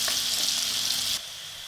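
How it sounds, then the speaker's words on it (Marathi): Onion and tomato are stirred as they fry for dal tadka, a loud, close sizzle with a few scraping strokes that suddenly drops to a quieter hiss near the end. "हलवत राहायचं, त्याला मिक्स करत राहायचं सतत"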